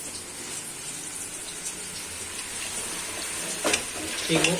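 Water poured into a hot pan of cooking chongas sizzles in a sharp burst near the end, over a steady low frying hiss throughout.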